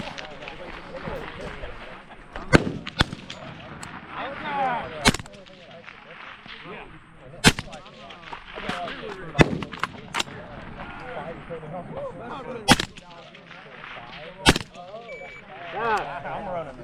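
Rifle shots crack out at a tactical sniper match, about half a dozen sharp loud reports spaced a few seconds apart, with people talking between and over them.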